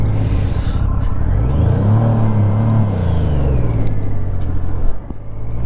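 A Triumph Trident T300 motorcycle engine is heard while riding, a loud steady rumble with rising and falling revs, wind noise throughout and a brief dip near the end, with no talking.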